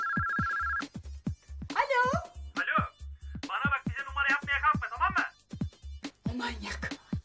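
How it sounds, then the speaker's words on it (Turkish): A telephone rings with a steady electronic trill in a Turkish TV drama scene. The short burst is heard at the start, then cuts off as people begin talking over a low, regular pulsing background. "Durun, telefon yine çalıyor."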